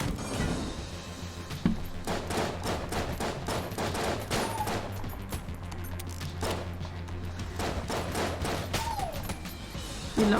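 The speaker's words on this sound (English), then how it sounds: "We love flak bullets here." Flak bullets firing steadily in a modded Enter the Gungeon, a dense, continuous stream of rapid popping shots with occasional clanks and impacts, loud and busy throughout with no talking.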